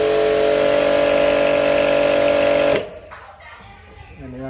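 An Ingco 1500W pressure washer, model HPWR15028, runs with a loud, steady electric motor drone close by for a few seconds, then cuts off abruptly, leaving quiet room noise.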